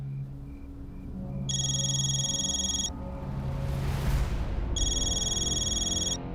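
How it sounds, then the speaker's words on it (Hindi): An electronic phone ringtone plays in a TV serial, two bursts of bright repeating tones, separated by a whooshing swell, with low background hum beneath. "रघु काका का फोन इस वक्त क्यों?"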